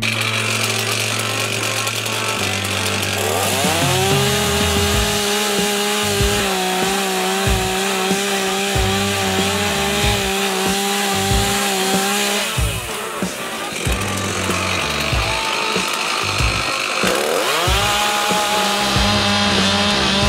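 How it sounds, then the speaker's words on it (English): A loud chainsaw roars close by, revving up and bogging down as it bites through wooden posts of a horse shelter in long cuts, with brief idling between passes. "I've got to cut these posts down with my chainsaw"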